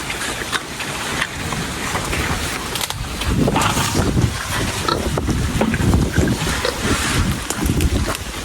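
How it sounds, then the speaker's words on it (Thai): Cool wind blows steadily outdoors near a pig-feeding area, a loud, rushing buffet against the microphone that swells midway and stays continuous throughout. "ลมก็พัดเย็นสดชื่นมากๆเลยนะ"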